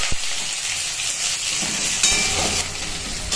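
Onion fries in hot oil with bay leaf and five-spice seeds in a kadai, giving a close, even sizzle with a brief clatter near the start and a slight swell partway through.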